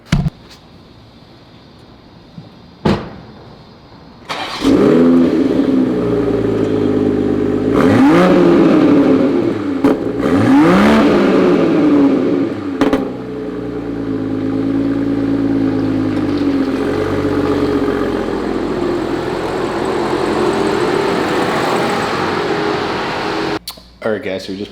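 A 2021 Toyota Supra is started and driven into a garage. After a couple of sharp clunks, the engine fires and revs in several rising and falling bursts, then settles into a steady nearby drone before cutting off, with a voice speaking at times.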